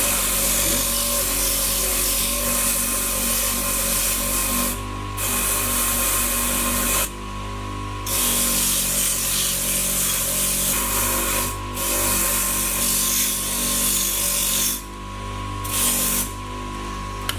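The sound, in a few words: brushing a Louis Vuitton brass lock with a fine brush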